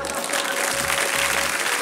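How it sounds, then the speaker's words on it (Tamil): Children in a classroom clapping their hands in applause: a brief, dense burst of many hands clapping together at steady volume, with a faint hum underneath. "சொன்ன பூஜாவுக்கு எல்லாரும் ஒரு தடவை கைத்தட்டுங்க"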